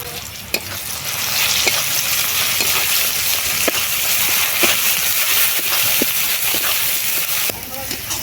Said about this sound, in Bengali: মশলা খুব সুন্দরভাবে কষানো হয়ে গেছে